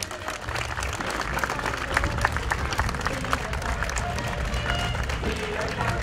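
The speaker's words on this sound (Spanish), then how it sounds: "Un aplauso para todo Viña" Sustained applause and clapping from an outdoor festival crowd celebrating the Fiesta del Ombú y el Caballo Criollo, dense and steady throughout with some crowd noise mixed in.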